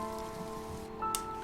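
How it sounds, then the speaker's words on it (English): Rain falls inside the Yume Nikki video game, a soft, steady hiss of drops with a low hum running underneath, short and fairly quiet. "I can make it rain in here"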